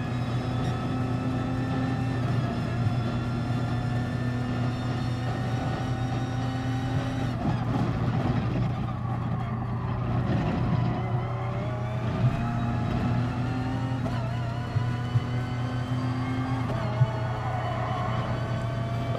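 Group 1 race cars howl around the Maggiore circuit in GT Sport during an online race, a steady loud engine drone with rising and falling gear pitches and brief dips between shifts.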